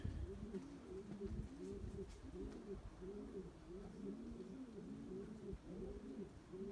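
White pigeons coo in a steady, repeating series of low, throaty, rolling calls, close by and continuous throughout with no talking.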